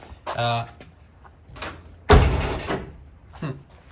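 A solid thump of a Jeep door shutting after quarter panel replacement, loud and close, with a short rattle after, between brief bursts of voice-like sound.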